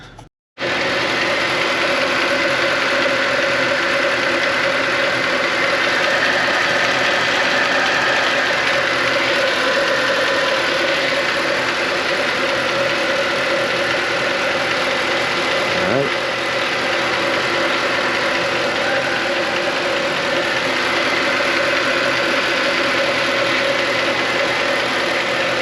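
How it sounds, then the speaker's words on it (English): A Mercedes-AMG engine idling after a cheap repair, heard up close from the engine bay: a loud, steady hum and whir that holds constant for the whole stretch, without talk. "Let's go listen to engine bay."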